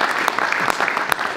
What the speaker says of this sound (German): Und das ist, glaube ich, nun mal ein Applaus wert.